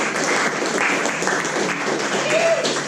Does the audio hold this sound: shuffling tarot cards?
no